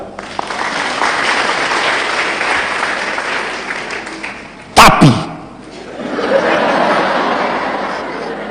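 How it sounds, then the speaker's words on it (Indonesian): A church congregation at an anniversary service claps for several seconds. A loud burst of laughter and whooping cuts in partway through, then the applause swells again, with voices chattering underneath. "Tepuk tangan."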